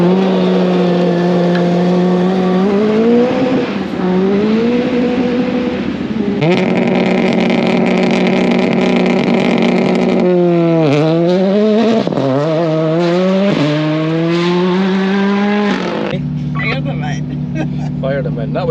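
Rally cars at a shakedown stage during an off-road rally event at Balmoral, a loud continuous engine roar with rising and falling revs and gear changes, nearby and dominant throughout.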